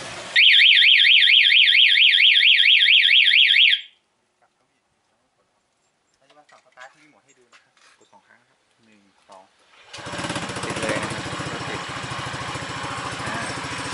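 A Honda PCX motorcycle anti-theft alarm wails a loud warbling electronic siren for several seconds and then cuts off, followed by quiet handling noises and then an engine running steadily.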